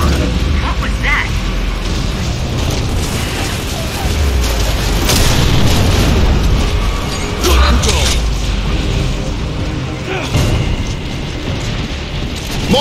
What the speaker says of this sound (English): Mortars! The grubs are gonna flatten that house if we don't stop them!